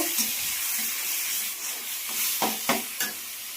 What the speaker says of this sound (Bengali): সবজিগুলোকে সব দিয়ে দিলাম, দিয়ে সবজিগুলোকে আমি কষে নেব।